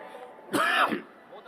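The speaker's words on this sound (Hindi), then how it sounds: "जब भी आता हूं मेरे को खांसी आने लगती है।" A single short, rough cough rings out on stage at a comedy poetry gathering, close and fairly loud, in an otherwise quiet moment.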